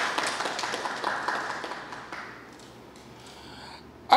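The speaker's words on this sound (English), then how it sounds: "Let's give Kasana a round of applause" Audience at a university scholarship launch clapping, a moderate round of applause that fades out over a few seconds before a sharp thump at the end.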